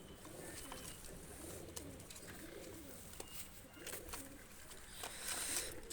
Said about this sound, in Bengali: দুইটা কবুতর ছেড়ে দেখাচ্ছি